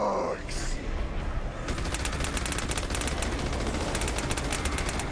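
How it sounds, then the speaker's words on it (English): Freeze-bullet gunfire in Battleborn, the Void's Edge boss fight against the Varelsi Conservator: rapid rhythmic bursts of shots that start about a third of the way in and repeat loudly to the end, with busy game effects underneath. "Freezy bullets!"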